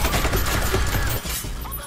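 A dense, rapid volley of gunfire from a comedy skit, loud and continuous with rattling bursts filling the short stretch, no voices over it.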